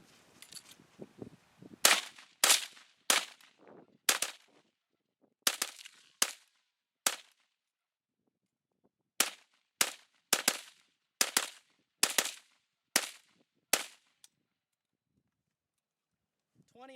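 An AK-47 rifle with a first-generation TAPCO magazine fires about sixteen loud, sharp shots one at a time outdoors, at an uneven pace with short pauses between bursts of shots and a longer gap midway.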